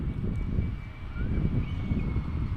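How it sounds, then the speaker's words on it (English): Lufthansa Boeing 787-9 Dreamliner jet airliner near DFW International Airport, a steady low jet engine roar with wind noise, fairly loud and continuous. "787-9 Dreamliner."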